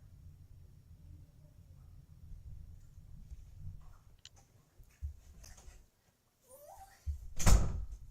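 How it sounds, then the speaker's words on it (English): A bedroom door shuts with a single loud, sharp thud near the end, after a stretch of low room rumble and a few faint knocks and clicks. "Close the door."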